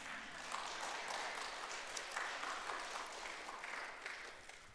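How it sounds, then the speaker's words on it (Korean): A church congregation claps in a quiet, distant, steady round of applause that fades slightly toward the end, with no clear voices over it. "좋았다고 생각하시는 분만 크게 박수 한번 해보시겠습니다."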